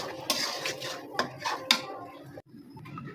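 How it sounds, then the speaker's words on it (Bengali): Boiled food being mashed with a wooden masher in a cooking pot, giving a few sharp knocks and scraping clatters against the pot at irregular intervals, close and fairly quiet. "আমি একটু ঘুটনি দিয়ে গুটি ফেলতেছি।"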